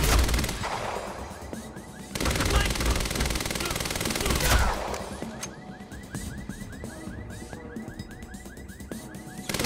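Rapid automatic gunfire from a low-recoil gun in the Quantum Break video game rattles in loud sustained bursts, broken by short pauses, with game ambience between volleys.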